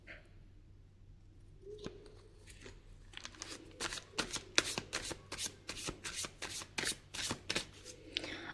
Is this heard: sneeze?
no